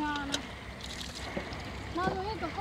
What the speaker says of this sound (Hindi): ये कितनी देर तक भरेगी आपकी कैन